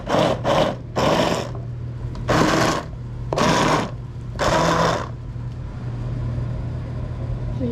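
A kitchen blender whirs in six short pulses, each a loud burst of about half a second to a second, blending a chunky morel mushroom quiche filling, then falls quiet to a low background hum.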